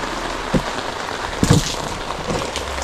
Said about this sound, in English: And rain.